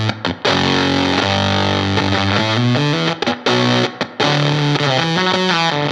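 Fuzz pedal in gated mode with the fuzz knob turned up, a thick buzzing distorted guitar that chops abruptly to silence between phrases, loud and up front with no talking.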